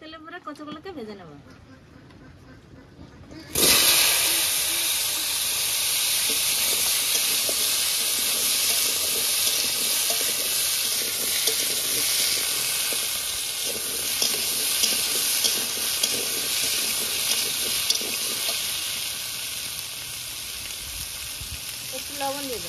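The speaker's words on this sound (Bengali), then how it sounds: "ভাজা তেলে পরে কচুগুলোকে ভেজে নেব।" Pieces of taro drop into oil left over from frying singi fish, and after a few quiet seconds a loud, sustained sizzle and hiss erupts and holds steady close by, with small crackles and pops.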